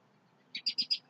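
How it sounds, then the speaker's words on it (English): A short burst of four quick, bright bird chirps in a row against a quiet background. "Hope you can hear me over all the birds singing."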